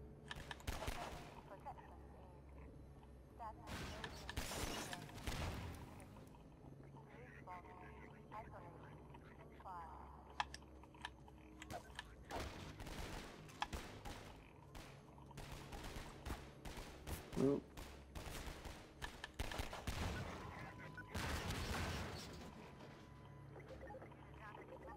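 Gunfire in Half-Life 2 combat comes in several loud bursts and rapid volleys, with quieter stretches between them, while a person talks over the action.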